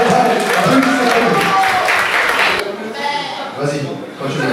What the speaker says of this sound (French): Allez, on applaudit, on applaudit. Allez, allez, applaudissez.